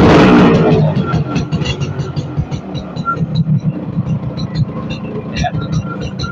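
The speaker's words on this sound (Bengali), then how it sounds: "এটা হচ্ছে ইয়ামাহা আরএক্স। অনেক ইয়ামাহা আরএক্স। আচ্ছা, গাড়ির সাউন্ডটা অনেক সুন্দর।" A Yamaha RX motorcycle engine idles and revs with a low, throbbing rumble, running steadily and close by throughout.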